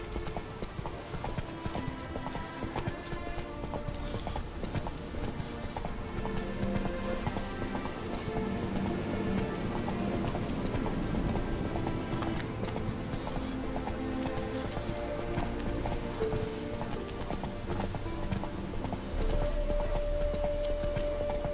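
Rapid rhythmic hoofbeats of a galloping horse in The Witcher 3: Wild Hunt, continuous and fairly close, over a busy game soundscape with music, ending with a sustained tone.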